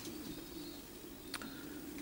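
Adult racing pigeons coo softly inside a pigeon loft in a low, continuous murmur, faint and close, with a brief sharper call partway through.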